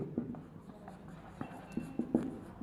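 Chalk or marker writing on a board during a maths lecture: soft, irregular taps and short scratchy strokes, quiet and close, with no talking.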